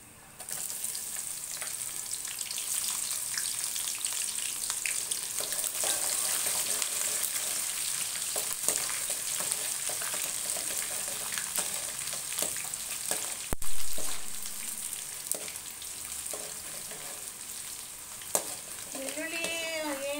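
Garlic, chana dal and urad dal frying in oil in a pan, with a continuous close crackling sizzle broken by occasional stirring scrapes and a brief clatter, and faint speech toward the end.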